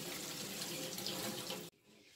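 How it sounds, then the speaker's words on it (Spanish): Hot tap water runs steadily over Cuban mortadella in a sink, a close, even rushing flow that cuts off abruptly near the end, leaving faint room noise. "vamos a poner el agua bien caliente y la vamos a enjuagar"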